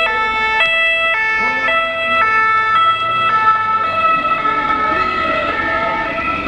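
An ambulance siren wails through a street protest in Chaumont as demonstrators step aside, a loud two-tone hi-lo pattern alternating steadily and close by over a background of crowd noise.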